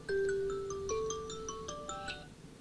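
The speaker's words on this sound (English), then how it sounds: "That's my alarm's going off now." A phone alarm ringtone plays a short melodic sequence of clear electronic beeping tones, fairly faint and alone against a quiet background.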